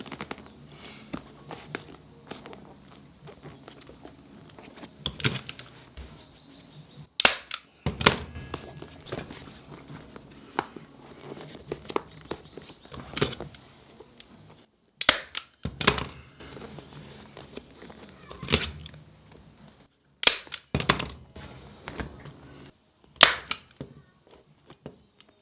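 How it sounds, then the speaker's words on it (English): A motorcycle seat cover for a Honda CBR/VFR800 is stapled down along its edge, sharp snapping staple shots spaced irregularly a few seconds apart with quieter handling rustle between them, close and fairly loud. "Just going to go along this edge here, staple it down."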